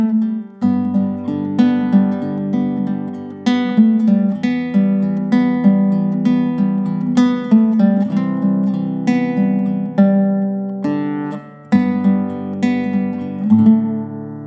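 Romantic-sounding guitar chords strummed repeatedly with a melody riff picked over them, bright and steady, each strum ringing out, close and loud with no voice present.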